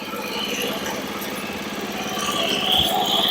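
Small engine of a Star MRW0850 self-propelled hay baler runs with a steady, close mechanical drone that rises slightly in loudness near the end.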